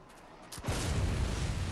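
A single loud gunshot from Bloodborne bursts out after a quiet moment, followed by a sustained noisy rumble that carries on to the end.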